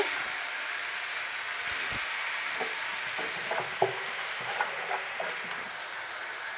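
Teasel gourd and potato fry in a pan for a Bengali bhaji, a steady sizzle under soft scraping and clinking as the pieces are stirred, with no voices.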